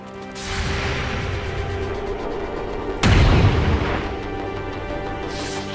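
In XCOM 2, loud rumbling bursts of gunfire roll on for several seconds, with a heavier, sharper blast partway through and fading echoes afterward, and no one speaking.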